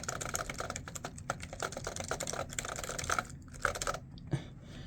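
Rapid typing on a BTC 5339R keyboard fitted with O-rings, giving a steady run of soft, deep, muted thocky keystrokes at close range with no voices.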